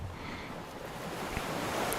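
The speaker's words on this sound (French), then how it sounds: "porté par le bruit des vagues" Ocean surf washing steadily onto a tropical island beach, a continuous soft roar of breaking waves with faint wind, no voices.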